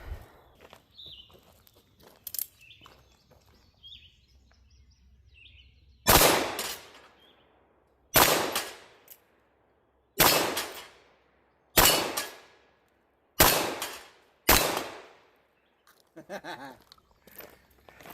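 Six loud, booming shots from a Taurus Deputy .45 Colt revolver firing cowboy loads. They come at a steady, unhurried pace, each with a decaying tail, after a quiet stretch with faint rustling.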